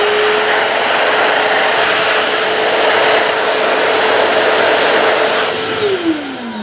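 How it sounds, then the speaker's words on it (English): A Fleurillo Fragrance high-speed hand dryer runs with a loud, steady airy roar and a constant whine that bends downward near the end as it winds down. "that's relatively low noise for a hand dryer."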